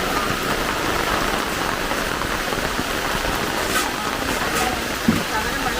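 Light summer rain falls steadily on a rural homestead, a continuous dense hiss of drops spread evenly across the whole stretch, with one small knock near the end.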